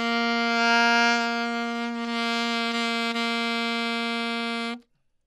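A single saxophone note is held with a full, steady, solid tone for nearly five seconds, then cuts off cleanly into silence.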